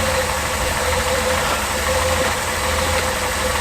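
A Reliant Scimitar car engine idles steadily up close, a loud, even mechanical hum with a faint persistent whine and slight knocking texture, and no voices.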